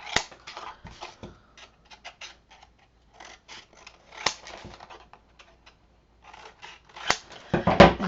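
Close, crisp snips of scissors cutting mitered corners on craft paper come in irregular clusters with quiet gaps between them, ending in a louder flurry of cutting and paper handling.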